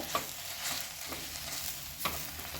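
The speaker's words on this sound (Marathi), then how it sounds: "अशा पद्धतीनं आपण हे डाळीचं पीठ घालून घेऊन छान मिक्स करून घेऊया" Gram flour is being mixed into fenugreek leaves in a pan for a dry methi bhaji. A faint, close sizzle runs under occasional scraping strokes of a spoon.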